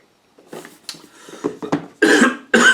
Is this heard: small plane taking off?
no